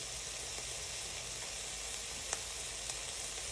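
Cabbage sautéing in a pan, a steady faint hiss of frying, continuous and even, with a couple of tiny crackles and no voices.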